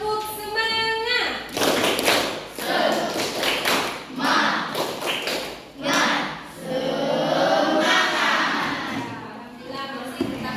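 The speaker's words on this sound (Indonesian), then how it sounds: "Ayo, tepuk semangat." Classroom of students doing a rhythmic Indonesian spirit clap (tepuk semangat): patterned bursts of claps mixed with chanting voices, loud and close, after a teacher's brief sung prompt.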